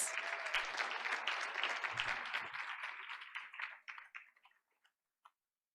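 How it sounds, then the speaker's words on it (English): An audience at a Board of Education meeting claps for a student, dense applause that thins into scattered claps and dies away to a last single clap. "Let's give Adrian a big round of applause."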